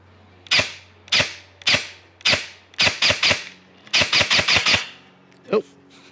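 ARES M45X-S airsoft pistol fired on semi-auto, a dozen sharp close snaps, first singly and evenly spaced, then in a fast burst of quick shots, ending with one softer click.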